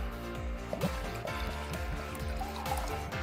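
A pitcher glugs and gurgles as water is poured from it, with a steady run of rhythmic bubbly blubs repeating quickly at moderate volume over faint room noise.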